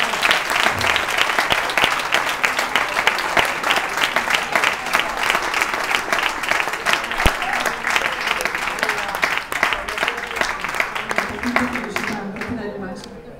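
Wedding guests clap loudly and continuously in a big round, dense overlapping hand claps filling the room with voices and cheers mixed in, tapering at the very end.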